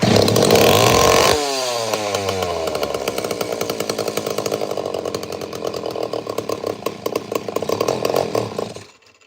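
A repaired chainsaw with a gutted muffler fires up loud and close, idling with a rough rapid popping then revving higher before cutting out abruptly.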